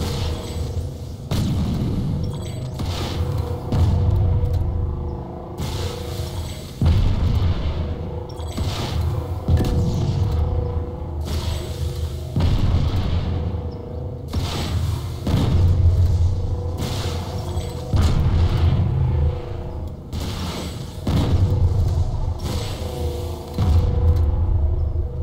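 ASP 30 Grounder rocket launcher firing a long string of rockets at a Galaxy in a video game: repeated heavy booming launches and blasts at a steady pace over a continuous low rumble, loud and close.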